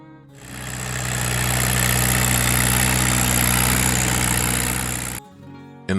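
An Allis-Chalmers D17 diesel tractor engine idles loud and close, a steady low throbbing drone that swells in, holds for several seconds, then drops away abruptly near the end.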